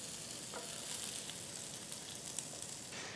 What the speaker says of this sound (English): then I want to quickly just fry up these onions